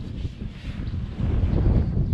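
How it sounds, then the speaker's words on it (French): A gusty rush of roughly 15-knot wind buffets a sailboat and the microphone, low and blustery, swelling louder in the second half. "Donc il y a du vent, là il y a 15 nœuds de vent."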